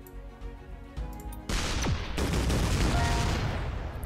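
Artillery shot fired in the video game Shellshock Live, a short burst of game noise followed by a sudden loud blast that leaves a sustained rumbling tail.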